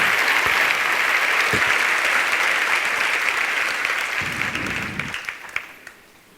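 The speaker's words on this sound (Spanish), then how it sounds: "dale un aplauso a Dios con todo tu corazón" A church congregation claps together in sustained applause during a sermon, a broad bright roar of hands that thins out and fades toward the end.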